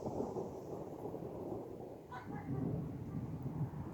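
Thunder from a lightning storm before any rain or hail arrives, a steady low rumble rolling throughout with a brief sharper crack near the middle.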